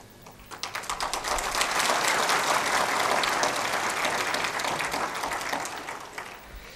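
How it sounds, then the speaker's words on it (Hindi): Vigorous audience applause at a motivational speech gathering, building quickly from scattered claps into a loud, dense, sustained ovation that tapers slightly toward the end. "दमदार तालियां बजाइए।"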